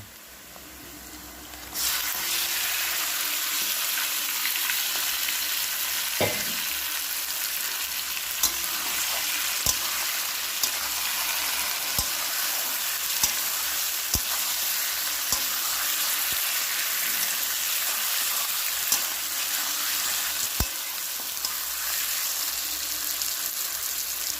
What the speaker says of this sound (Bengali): ম্যারিনেট করা মাংসটা তো দিয়ে দিলাম কড়াইতে